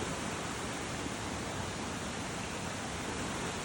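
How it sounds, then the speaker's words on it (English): An overflowing creek rushes in a dense, unbroken roar of water, loud and close with no other sounds. "Creek is dangerous when it's overflowing."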